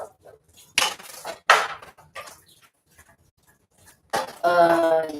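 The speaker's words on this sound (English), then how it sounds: "I'm gonna keep stirring, stirring" Stirring food in a pot while cooking a Cuban dinner: a few scraping clinks of a utensil against the pot come in short separate bursts, with a voice talking briefly at the end.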